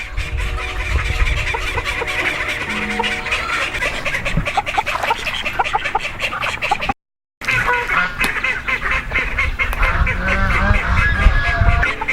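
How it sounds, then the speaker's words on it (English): A loud, crowded chorus of quacking ducks and honking geese, continuous and close, with a brief gap of silence midway. "Hey Luke, can you change the water over here for these ducks?"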